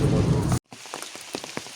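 Rain drumming on a vehicle while driving to a lake on an autumn fishing trip, a dense patter of drops cut by a brief silence, then scattered louder individual raindrop hits and splashes.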